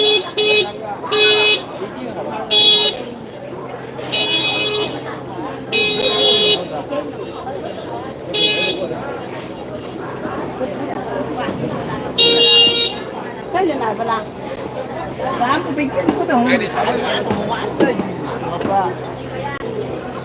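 Car horns honk in a traffic jam at a rural Chinese morning street market, with repeated short, bright toots, some in quick pairs, sounding close over steady crowd chatter and market bustle.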